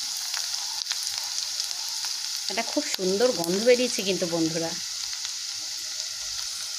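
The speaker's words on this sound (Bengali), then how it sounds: "আমি পেঁয়াজটা একটু ব্রাউন করে ভেজে নেব" Onions frying in a pan until brown, a dense continuous sizzle close by with stirring scrapes, while someone speaks briefly over it.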